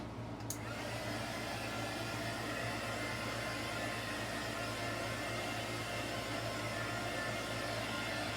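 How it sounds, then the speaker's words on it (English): Steady, even blowing roar of a heat gun aimed at wet spin art paint, continuous and close for the whole stretch with no talking. "And then heat gun again."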